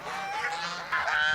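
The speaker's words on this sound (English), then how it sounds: "She's a Steinbacher. They're a Russian fighting goose." A Steinbacher goose, a Russian fighting goose breed at a petting zoo, gives two loud nasal honks close by, the second harsher and rising, with no talking.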